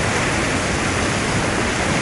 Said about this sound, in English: That is a hell of a waterfall.